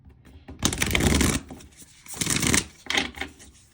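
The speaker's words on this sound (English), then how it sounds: "Okay, so I'm going to shuffle and I'm going to pray for guidance" Tarot cards are shuffled close by in three rustling, riffling bursts with brief pauses between, no talking.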